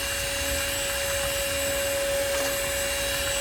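A DeWalt 20V cordless ash vacuum sucking up ash chunks through its hose, a close, steady motor whine with a constant high tone and a few faint rattles.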